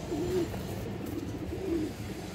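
A green-necked female pigeon gives two soft, low cooing calls close by, over a faint background hum.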